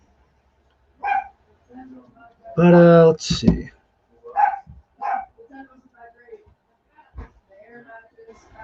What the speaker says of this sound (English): Sorry if you hear any dogs barking.